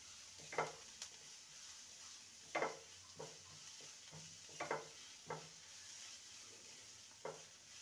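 A spatula scrapes and stirs ginger garlic paste frying with golden-brown onions in a pan. Several short, faint scrapes rise over a low sizzle.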